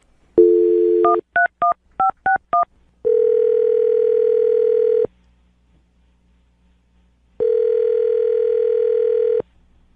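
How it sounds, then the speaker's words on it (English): A telephone number is keyed in on a phone to call a listener: a short tone, then six quick keypad beeps, then two long ringing tones separated by silence, close and clear with no talking. "Any last thoughts before I dial her phone?"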